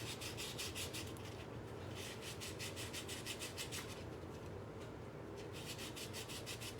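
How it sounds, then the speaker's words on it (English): Sanding a ring made from a 90% silver, 10% copper Walking Liberty coin gives a steady, close scratchy rasp in quick back-and-forth strokes, running continuously with no talk. "So we'll do a little bit of sanding here just for good measure."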